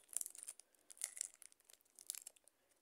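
A pack of football trading cards is torn open in short bursts of crisp ripping and crinkling foil, close and fairly quiet, with pauses between pulls.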